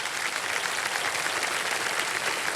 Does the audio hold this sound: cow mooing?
no